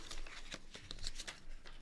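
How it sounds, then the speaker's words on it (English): A deck of tarot cards is shuffled by hand, giving a quick series of soft, close riffling slaps and brushing flicks. "Let me shuffle and get back to you."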